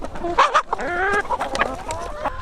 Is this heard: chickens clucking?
yes